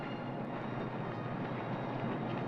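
An underground train at Piccadilly station gives a steady, muffled rumble and rush with no distinct events, faint and constant throughout.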